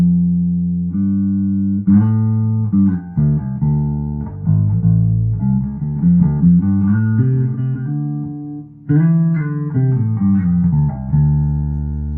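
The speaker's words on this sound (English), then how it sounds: "Let's hear how she sounds. We'll do all the pickups forward," A Birdsong Cortobass short-scale bass guitar with all pickups on plays a clear, continuous melodic bass line of sustained low notes and moving phrases, loud and alone with no talking.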